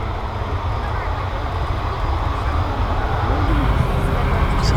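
ASL cargo jet taxiing toward the end of runway 27 at East Midlands Airport at night, a steady broad engine roar holding at a constant level with a slight rise, with someone talking over it.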